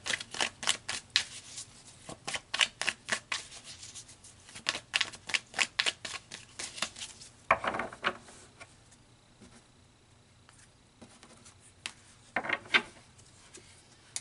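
A deck of tarot cards is shuffled by hand, with rapid riffling bursts and flicks in quick rhythmic runs and pauses between them, close by, with no talking.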